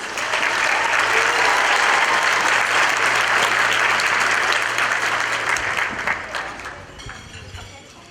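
A banquet audience at a 4-H awards dinner applauds loudly and steadily for several seconds, then the clapping tapers off and grows fainter near the end.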